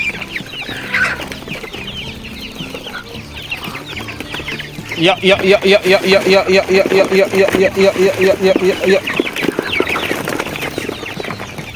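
A flock of poultry-farm chickens clucks busily and continuously while eating neem leaves, growing louder and denser halfway through, with a voice faintly under the noise.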